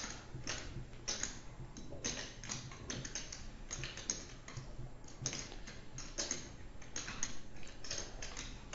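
Clay poker chips clack and tap as they are counted out and stacked at a live poker table, a steady run of quick, close clicks that go on throughout without talk.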